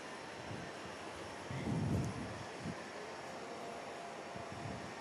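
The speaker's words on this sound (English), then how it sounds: "Qantas Streamline is just under tow, coming off the remote stand there" A Qantas airliner being towed off a remote stand at Perth Airport's Terminal 3, heard as a steady distant engine and tug rumble with a brief louder swell near the middle, no talk.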